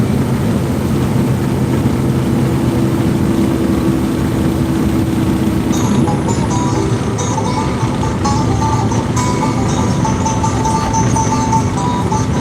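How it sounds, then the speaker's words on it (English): Semi truck using its Jake engine brake while downshifting to slow down, a loud steady low engine rumble that grows harsher and more rattling partway through, heard from inside the cab. "And now I'm downshifted primarily to decelerate with the Jakes."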